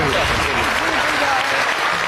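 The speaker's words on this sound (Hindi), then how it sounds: "साउथ भाई के लिए तालियां यार" An audience bursts into loud, dense applause, a continuous wash of clapping with a voice speaking over it.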